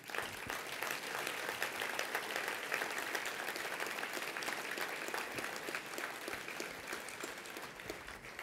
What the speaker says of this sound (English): How about a round of applause for this young man?